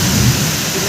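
Heavy rain pours loudly and close with a deep rumble of thunder rolling beneath it throughout the brief moment.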